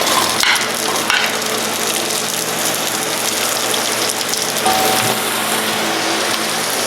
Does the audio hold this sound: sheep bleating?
no